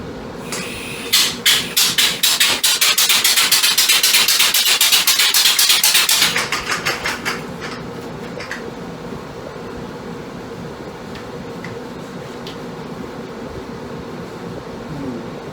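A compressed-air powered bicycle with a 3-inch drive wheel runs in a fast, loud series of rhythmic pneumatic bursts for about six seconds, then falls to a quiet hiss and faint mechanical ticks.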